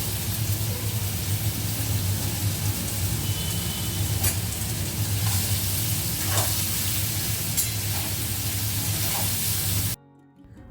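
Potatoes frying in a pan fill the kitchen with a steady, dense sizzle and crackle that runs unbroken for about ten seconds, then cuts off abruptly.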